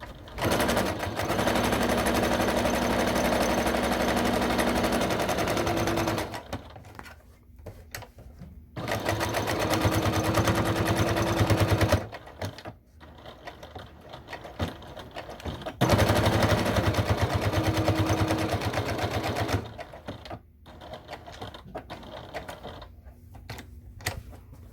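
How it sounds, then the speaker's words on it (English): A sewing machine back stitches a fabric tea bag packet, running in loud rapid bursts of several seconds each, broken by short pauses, with no talking. "I'm just back stitching here"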